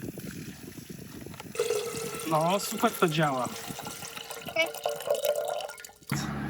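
Water trickles and drips steadily through a pipe into a sandbox tank nearby while a person speaks briefly over it, with some splashing and handling noises.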